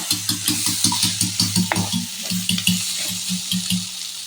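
Sliced raw green banana sautés in a hot pan for a Tamil egg and plantain stir-fry, giving a steady close sizzle broken by a regular rhythm of spatula scrapes and stirs.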